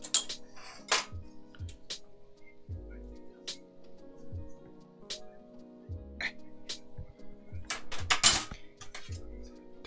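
Metal kitchen utensils clink and clatter as a garlic press is worked while making chili con carne: scattered sharp taps and scrapes at close range, some quiet gaps, and one louder cluster of clanks near the end, with no talking.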